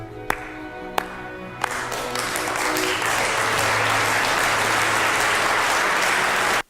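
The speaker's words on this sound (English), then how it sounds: "This deserves a slow clap." Audience applause opens with a few slow, spaced single claps, then swells into sustained, dense clapping that holds steady and loud until the end.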